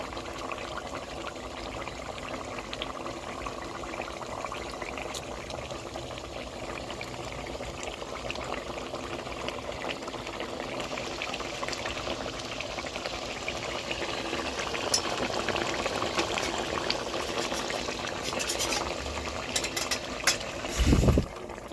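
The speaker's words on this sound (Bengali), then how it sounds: "ঝোলটা ঠিকমতো ফুটিয়ে নিচ্ছি, আলুটা যাতে ঠিকঠাক সিদ্ধ হয়ে যায়।" Curry gravy with potatoes simmering in a pot for egg omelette kalia, a steady soft bubbling and hiss that continues evenly, growing slightly busier near the end with a brief clatter.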